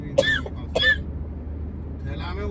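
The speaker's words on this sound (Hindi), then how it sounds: "उससे मेरे गले में खांसी है" A woman with a sore throat gives two close, short coughs, followed by quiet background and faint talking.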